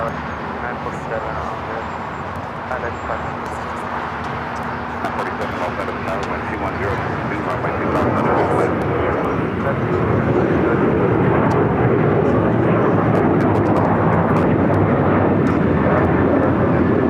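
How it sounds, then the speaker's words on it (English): An Alaska Airlines jet bound for Guadalajara at LAX roars steadily, its engine noise swelling louder toward the end, with traffic and voices talking underneath. "we got that Alaska flight heading to Guadalajara"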